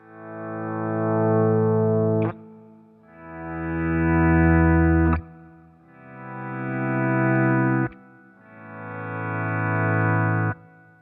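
Electric guitar through a Keeley SYNTH-1 pedal with a slow attack, four sustained notes each fading in gradually as a volume swell before cutting off, close and alone.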